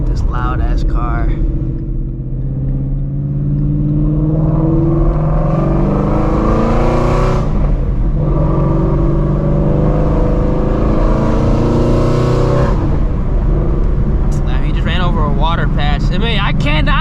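A loud Shelby GT350 Mustang engine rumbles continuously on a night drive, its note swelling and falling as the car accelerates and eases off, heard from inside the cabin.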